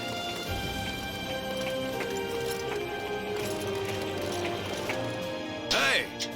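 Horse hooves clip-clopping in Dynasty Warriors 9, steady and mid-distance beneath game music, with a brief louder burst near the end and a voice speaking.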